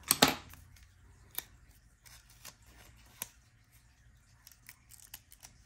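Scissors trim washi tape around a sticker, opening with one sharp, close snip followed by a few faint clicks and light handling sounds in a quiet room.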